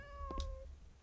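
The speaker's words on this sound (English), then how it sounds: "I hear the cat." A cat meows once in the horror video game The Emulator, a short, clear meow over a low game-ambience hum.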